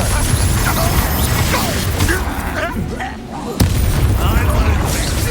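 A Confringo fire spell explodes during hard-mode combat in Hogwarts Legacy, with loud booming blasts and crashing impacts layered over in-game voices and battle noise.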